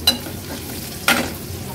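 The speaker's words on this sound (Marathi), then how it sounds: "हळद आणि मसाला तेलावर छान परतून घ्यायचा आहे" Turmeric and homemade Agri Koli masala frying in hot oil, a soft sizzle broken by two sharp stirring scrapes, close and without talk.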